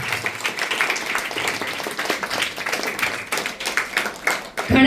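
Audience applause at a BJP community event for children in Nava Bandar: a crowd of many people claps briskly and unevenly, with voices mixed in and a sharp louder burst at the very end.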